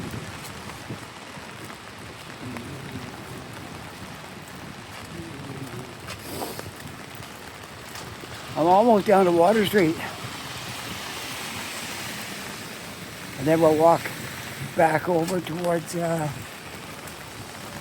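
Heavy rain pours steadily on a downtown street while a man walks through it, a constant dense hiss of falling water, with his voice talking over it in a couple of bursts.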